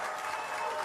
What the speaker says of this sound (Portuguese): Aplauso, mas tem vaias também.